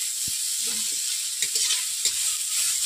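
Tender neem buds fry in a pan with a steady, bright sizzle, while a spatula stirs them in a few brief scraping strokes close by.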